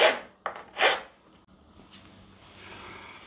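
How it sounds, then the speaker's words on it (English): Two or three short, harsh rasping strokes as a file flattens a fret end on a guitar fingerboard in a workshop, followed by quiet room noise. "file off that end right there, nice and flat"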